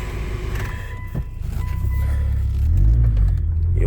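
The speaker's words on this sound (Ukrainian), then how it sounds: "Отак він заводиться цей автомобіль." A 2005 Mitsubishi Outlander with a 2.4 engine and LPG conversion starts up, its low rumble settling into a steady idle that grows slightly heavier toward the end, close by, with no talking.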